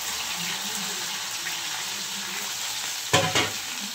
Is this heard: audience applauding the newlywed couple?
no